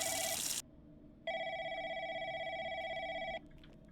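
In a call center, a telephone rings with a steady electronic trill lasting about two seconds, following a short burst of noisier sound, and heard in an otherwise quiet room.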